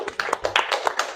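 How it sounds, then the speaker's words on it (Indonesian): Applause for a student speaker in an Indonesian classroom, a short patter of a few people clapping in quick uneven claps, near and brief. "Tepuk tangan dong kepada"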